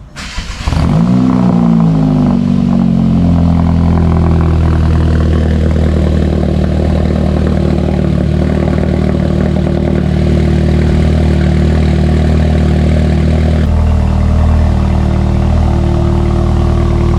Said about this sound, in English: we're gonna go ahead and fire her up and make sure that she starts all right